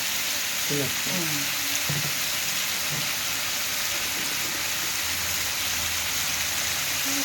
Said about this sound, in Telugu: ఇది ఏం చేయాలి మగ్గాలి బాగా మగ్గాలి ఇది నూనెలో